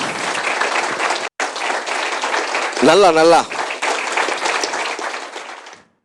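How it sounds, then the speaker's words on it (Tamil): An audience claps at Sathiyam TV's 15th anniversary celebration, a sustained wash of applause with a brief gap, while a voice speaks over the clapping midway. The applause then fades out at the end. "நல்லா ஜோரா கைத்தட்டலாமே?"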